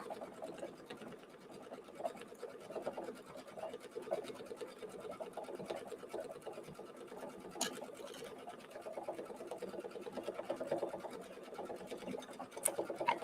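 Embroidery machine stitching steadily, a soft continuous rapid needle chatter at low level throughout with a few faint clicks, no talking.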